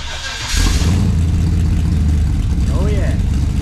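A Holden Clubsport's engine, rear muffler removed from its custom exhaust, starts up and settles into a loud, rough idle with a deep, throaty rumble that continues steadily throughout.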